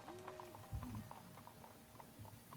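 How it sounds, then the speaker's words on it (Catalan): Horses' hooves clip-clop at a slowing pace, with steady, quiet, evenly spaced hoofbeats under faint background ambience, set to a tabletop role-playing session. "els cavalls van aminorant el pas"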